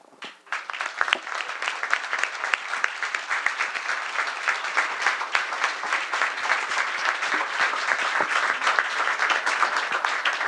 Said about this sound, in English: can we get another round of applause for these students, please?